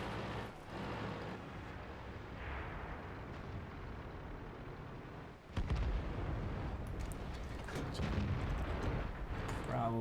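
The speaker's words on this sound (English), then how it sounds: "I just loaded an HE shell for your turret" An HE shell fired from a tank cannon in World of Tanks, a sudden loud blast cutting in after a stretch of quieter battle rumble, followed by ongoing booming and crackling.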